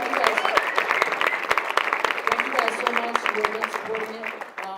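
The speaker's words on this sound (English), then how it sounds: "give it up, round of applause" An audience at a fundraiser event claps in sustained applause, dense and lively, with voices mixed in, tapering slightly near the end.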